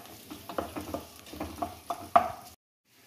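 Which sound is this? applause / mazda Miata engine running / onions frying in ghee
onions frying in ghee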